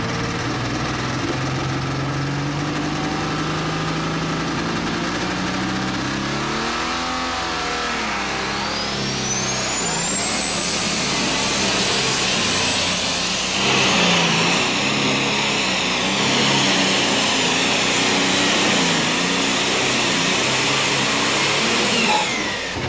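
A diesel super stock tractor at a 1999 NTPA pull in Galax, Virginia roars loudly and continuously, its turbo whine climbing into a sustained high scream as the run goes on.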